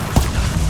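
A Stupefy spell striking in the Hogwarts Legacy video game lands as one short, heavy low thump over dense game noise, brief and close.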